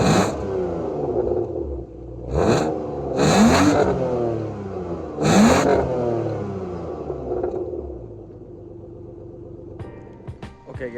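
A BMW E36 with its stock exhaust idles, then rises through three loud revs, each climbing and falling back to a steady idle, with a faint click near the end.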